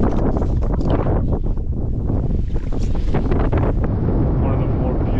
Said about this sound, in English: But it's super windy.